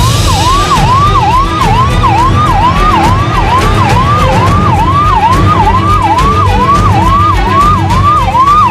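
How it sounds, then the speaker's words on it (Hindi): An ambulance races along the road, its siren wailing loud and close in fast repeating rising-and-falling sweeps over a continuous rumble of traffic. "सड़क पर सरपट सायरन बजाती एम्बुलेंस की तस्वीर दिलों को जोड़ती है"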